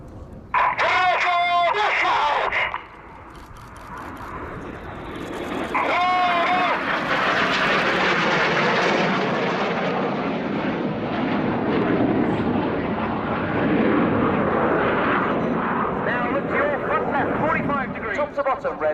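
Red Arrows BAE Hawk T1 jets fly a display at the RIAT 2017 Royal Air Force airshow: a loud, broad jet roar swells and then holds, heard at a distance, while a commentator talks over it throughout.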